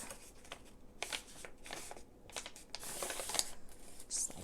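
Paper sheets for a paper bag notebook are folded in half, producing soft crinkles and brisk sliding swishes in uneven bursts, fairly close and quiet.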